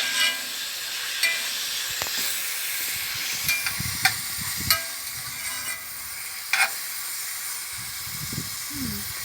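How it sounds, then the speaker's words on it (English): Beef sizzles and crackles in hot oil, being fried until golden brown for a beef and vegetable stir-fry, with a steady hiss and scattered stirring clatters and spatula scrapes close by. "You fry the beef in the oil that is heated until it's golden brown."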